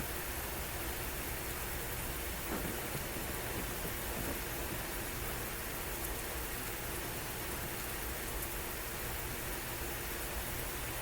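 Rain from a thunderstorm in the strategy game Grand Tactician: The Civil War hisses as a dense, steady, even wash of noise, unbroken and fairly quiet for the whole stretch, with no distinct thunder claps.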